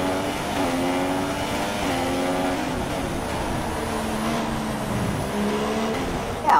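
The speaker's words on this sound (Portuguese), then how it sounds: "Eu estou impressionado com a potência do motor do Dan, como na reta ele engoliu vários carros ali sem tomar conhecimento" Racing car engines screaming down a straight in the F1 2016 video game at the Azerbaijan Grand Prix, several high-revving engines overlapping with rising and falling pitch as cars pass, loud and continuous.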